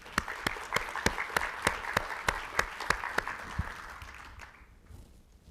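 An audience claps in warm, steady applause to welcome a speaker at a medical research public talk, a dense even patter with a few sharp near claps standing out, fading away over the final second.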